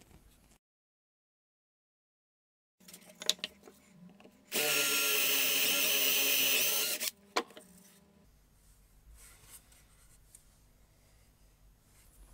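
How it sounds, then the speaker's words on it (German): A 15 mm Forstner bit bores through a thick wooden plate, a loud steady drilling burst of about two and a half seconds, framed by handling knocks and clatter in a workshop. "bohren hier ein etwas größeres Loch durch. Ich nehme da einen 15 mm Forstnerbohrer"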